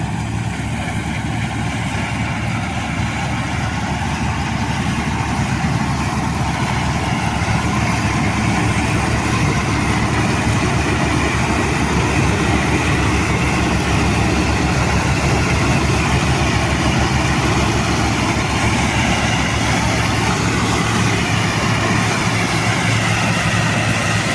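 A combine harvester's engine runs loudly and steadily during a grain harvest, a continuous heavy low rumble with broadband mechanical noise and no noticeable change for the whole stretch.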